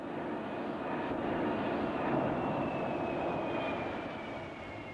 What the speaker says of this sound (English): The two-seater planes are fighter bombers and roar along its runways day and night.